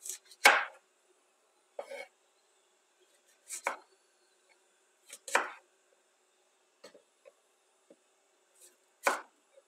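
A knife chops a handful of parsley on a board, landing in sparse separate bursts of one to three quick strokes spaced a second or two apart, close and crisp against quiet.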